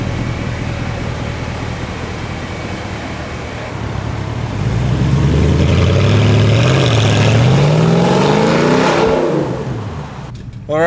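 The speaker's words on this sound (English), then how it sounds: "We've taken the exhaust off, so it's going to be a bit loud in here." A 2023 Porsche Cayenne S with its exhaust removed drones inside the cabin, then swells into a loud rev that climbs in pitch and holds before easing off, with a steady rumble and road noise beneath.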